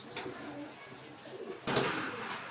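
A male pigeon of a fancy breed coos in a low murmuring call at close range, quiet and brief, and a louder burst of flutter or movement comes near the end.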